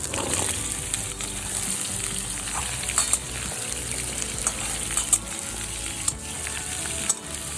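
Washed, drained pumpkin pieces frying in mustard oil for a raw-mango pumpkin chutney, a loud constant sizzle with watery crackle and periodic stirring scrapes and knocks against the pan, close and uninterrupted.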